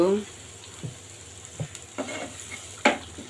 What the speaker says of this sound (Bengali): পেঁয়াজটা আমি ব্রাউন কালার করে ভেজে নিব।